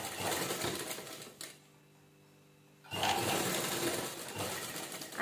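A sewing machine stitches fabric for a haldi kunku hanging decoration, running in two steady whirring bursts separated by a short quiet pause, close and fairly loud.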